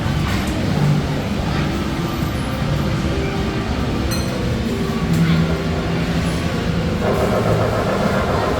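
A dinosaur-shooting train ride at the Seacon amusement park gives a steady, loud rumble and clatter that runs throughout, with faint high tones and muffled voices mixed in.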